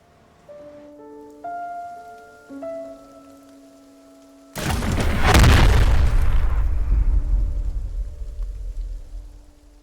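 A few rising synth tones give way to a sudden loud explosion effect in a tabletop game session, a deep booming blast that rumbles on and slowly decays.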